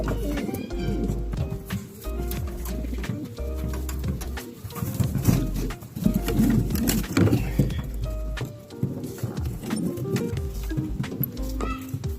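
Racing pigeons coo steadily in a loft, a dense layered murmur of many birds close by with wing flutters and scuffling throughout.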